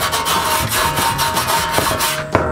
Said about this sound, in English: we're just cleaning any kind of excess grease that could potentially drop down and